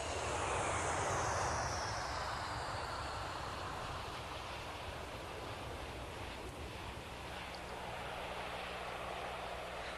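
A passenger airplane's engines give a steady, broad roar that is loudest at the start and then settles into a constant wash of noise, with no talk.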